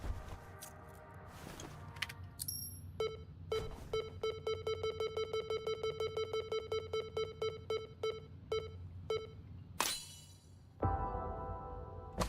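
A phone rings inside a video game, a rapid electronic trill of evenly spaced tones repeating for several seconds amid game sounds and brief chimes, fairly close and clear.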